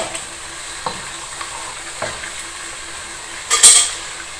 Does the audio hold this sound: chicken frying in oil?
yes